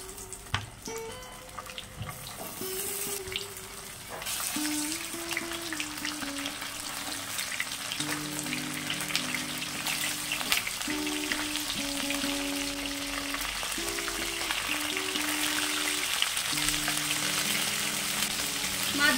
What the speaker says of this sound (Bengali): মাছগুলোকে এপিট ওপিট লাল লাল করে ভেজে নেব